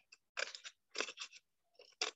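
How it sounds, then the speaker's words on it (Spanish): Scissors cut in several quick bursts of crisp snipping, close and fairly quiet, separated by short silences, in a children's art class held over a video call. "Estas tijeras cortan súper fáciles."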